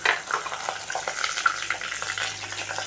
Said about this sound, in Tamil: இதெல்லாம் போட்டு நல்லா வதக்கி வறுத்து எடுத்துக்கலாம்